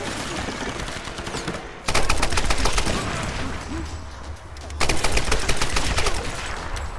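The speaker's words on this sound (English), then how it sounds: "She's shooting at us!" Rapid gunfire rattles through a video game shootout, loud bursts that come in two long sustained volleys with a short lull between, dense and close, with a little speech underneath.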